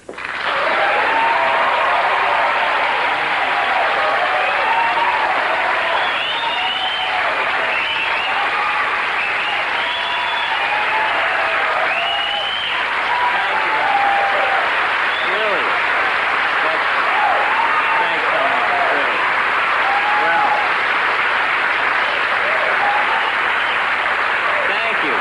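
Loud, steady applause from a television studio audience at the comedy program It's Garry Shandling's Show, with dense clapping and some cheering voices that hold for about twenty-five seconds.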